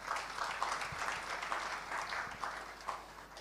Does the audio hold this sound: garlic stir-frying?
no